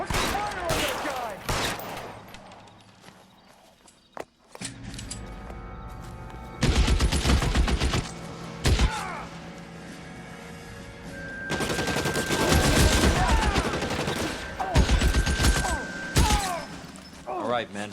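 Gunfire in the crime game L.A. Noire, with bursts of rapid shots and heavy impacts coming in waves, loud and close, while characters shout over the shooting.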